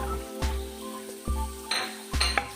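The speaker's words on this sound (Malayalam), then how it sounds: "എണ്ണ നന്നായിട്ട് ചൂടാവുന്ന സമയത്ത് നമുക്ക് ഇതിലേക്ക് 1 ടീസ്പൂൺ വെളുത്തുള്ളിയും അതേപോലെ തന്നെ 1 ടീസ്പൂൺ ഇഞ്ചിയും ചേർത്ത് കൊടുക്കാം" Garlic and ginger hit hot oil for veg manchurian gravy, with a steady close sizzle broken by several sharp spoon clinks and scrapes against the pan, the frying growing brighter toward the end; no one speaks.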